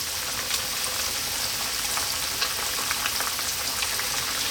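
Salt and pepper chicken wings fry in moderately hot oil, giving a steady, dense crackling sizzle with small pops, close and continuous with no voices.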